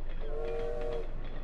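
Train in the open-world video game Little Devil Inside, a steady whistle-like tone lasting about a second over a continuous rumbling rail background, close and moderately loud.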